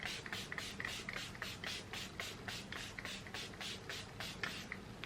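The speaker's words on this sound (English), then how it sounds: "I'm going to use some of this as well, the Murad prebiotic 3-in-1 multi mist" A Murad prebiotic 3-in-1 multi mist spritzed onto the face in a quick, steady series of soft hissing sprays, quiet and close with no talking.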